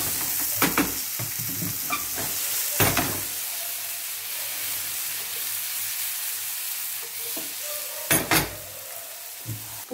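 Zucchini, cherry tomatoes and shrimp sizzle steadily in a pan, a close, even hiss punctuated by a few sharp clanks and scrapes of a utensil stirring, especially near the start and end.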